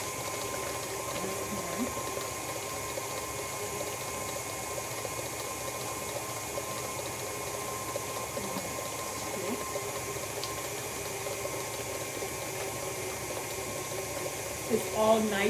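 An electric mixer beats cake batter with eggs in a kitchen, a continuous close whirring drone with a churning, liquid texture, steady in level throughout.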